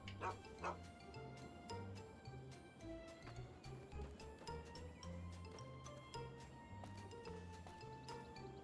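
A dog barks in the video game Fallout, repeated short faint yips and barks over a ticking, clock-like background and quiet game ambience.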